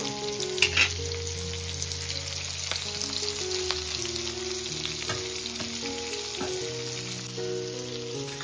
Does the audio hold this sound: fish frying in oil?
yes